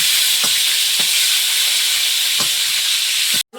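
Sliced eggplant frying in oil in a pan, a steady loud sizzle throughout with a few soft stirring knocks, cutting off abruptly near the end.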